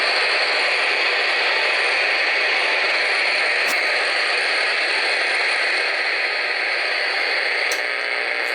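Ham radio receiver hiss and static on a normal transmit antenna without a magnetic loop, steady loud broadband noise with faint ticking clicks throughout, no talk.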